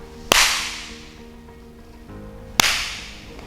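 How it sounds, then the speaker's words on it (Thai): Two sharp hand claps sound alone in an acoustically treated room at the AUA Language Center, fitted with Trandar ceiling panels. Each clap leaves a short, fading reverberant tail. "จะลองตบมือให้ทุกคนดูแล้วกันว่าค่าความกล้องในห้องมันเป็นยังไง"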